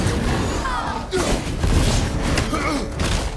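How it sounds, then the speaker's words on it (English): An explosion in the video game God of War, heard as heavy thuds and booms amid game combat noise, loud and close, with a player talking over the action. "Kill his buddy with an explosion."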